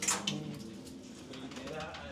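Racing pigeons coo in a loft, a low, steady murmur running through the whole stretch, with a brighter burst near the start and faint voices in the background.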